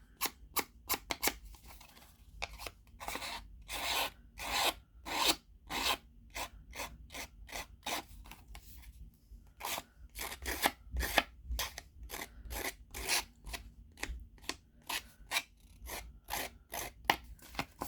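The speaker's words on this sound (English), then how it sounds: "Okay, and then the same on this, just roughing the edges up." Scissors rasp along the edges of cardstock, roughing them up in quick repeated strokes that come in bursts with short pauses, close and fairly loud, with no talking.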